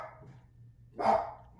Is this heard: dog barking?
yes